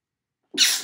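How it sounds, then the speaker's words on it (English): A single sharp sneeze bursts out after a stretch of silence, close and abrupt. "Disregard the sneeze."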